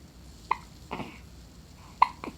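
A newborn baby hiccups softly twice, each small sharp hiccup followed by a faint breathy catch, close and quiet, with a second pair coming about a second and a half after the first.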